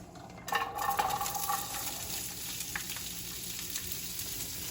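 Green beans dropped into a hot pan with chicken, setting off a burst of crackling sizzle that settles into a steady, moderately loud frying hiss.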